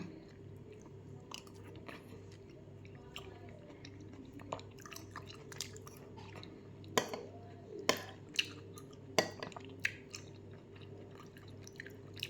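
Canned longan being chewed close to the mic, soft wet squishing bites with a few sharper crunchy clicks scattered over about twelve seconds, no voice.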